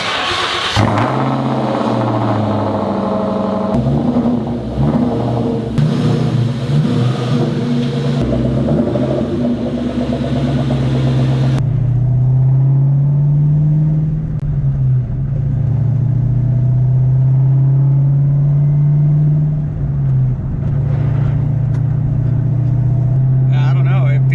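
A car on a test drive after a Stifflers transmission crossmember mount install gives a loud engine rumble that rises and falls in pitch through acceleration and gear changes, with a voice speaking over it.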